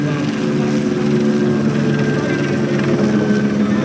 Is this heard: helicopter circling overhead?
yes